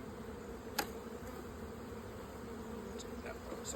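Honeybees hum steadily around an open beehive nuc, a soft continuous buzz with a few sharp clicks or knocks from handling the box.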